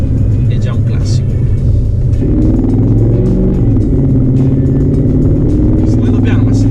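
Mercedes SLR McLaren with its big supercharged 5.4-litre engine, driven slowly, loud deep engine rumble throughout with a rising note midway, up close and steady.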